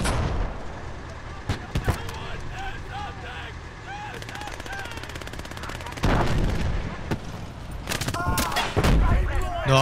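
Repeated gunfire and machine-gun bursts crackle through a Gates of Hell World War II battle, with scattered sharp shots early, dense sustained firing later, and a louder close volley near the end amid constant battlefield noise.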